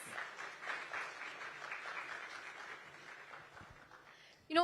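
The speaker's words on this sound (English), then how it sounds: "A huge round of applause for him, please." A startup event audience in Delhi NCR gives a soft, diffuse round of applause for Kunal, a dense patter of many hands that stays fairly faint and even before fading.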